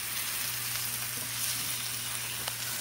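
A shrimp quesadilla sizzles steadily in a hot pan just after being flipped, a close, even crackle with a low hum underneath and no talking.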